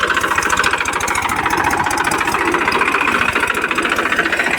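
A tractor engine runs loud and close in a groundnut field, a steady rapid chugging pulse with a mechanical clatter, unbroken throughout and with no talking.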